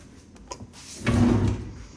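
Desk drawer in a house sliding open or shut, a close, brief rumbling slide with a soft knock just before it, heard alone.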